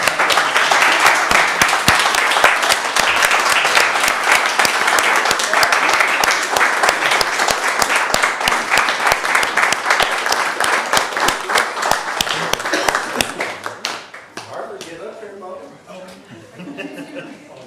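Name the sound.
applause at village council meeting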